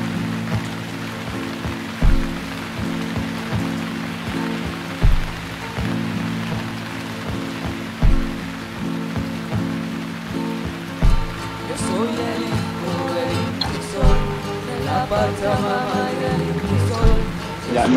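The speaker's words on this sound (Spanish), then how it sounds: "acaba de empezar la lluvia" Rain falling during a hot day in a natural setting, a steady wash of patter with occasional heavier drips and soft thumps, continuous and fairly close.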